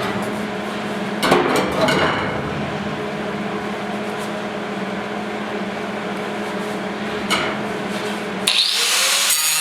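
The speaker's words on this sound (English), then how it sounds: "Cut that bolt off." A power tool cuts off a bolt during box side repair on a 1972 Ford short box 4X4 truck, a steady loud grinding drone running throughout with brief harsher bursts and a sharper rise near the end.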